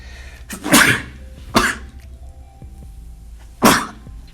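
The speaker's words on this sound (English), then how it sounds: "I have to sneeze." Three sharp, loud bursts stand out against a quiet room: a person's sneeze-like blasts, the first two close together and the third after a pause, each abrupt and breathy.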